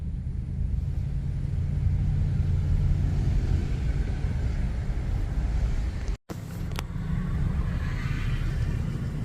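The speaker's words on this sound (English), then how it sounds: "Traffic's really heavy." Heavy road traffic streams along Maryland 51 South near the C&O Canal between Cumberland and Paw Paw, a steady loud rumble of passing vehicles with wind buffeting the microphone and a brief dropout partway through.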